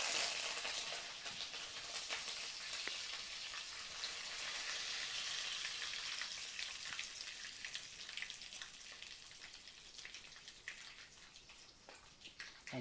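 Cumin seeds and curry leaves sizzle in hot oil with a steady, bright crackling hiss and scattered pops that go on without pause at a soft, even level.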